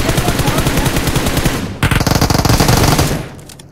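Rapid automatic gunfire in PUBG Mobile, loud and close, a dense rattling burst that briefly breaks off and resumes before trailing away, with no talk over it.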